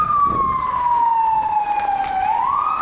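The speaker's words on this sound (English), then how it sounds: "Oh, look, here we go, another ambulance." An ambulance siren wails loudly through a Brooklyn Chinatown street in Fuzhou, one long continuous tone that slowly falls in pitch and then rises again as it passes, with traffic rumble underneath.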